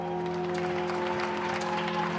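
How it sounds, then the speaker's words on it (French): Parisians applauding outdoors alongside the ringing bell of the fire-ravaged cathedral, a broad, steady wash of distant clapping with a sustained bell tone humming underneath throughout. "En concert avec les applaudissements des Parisiens"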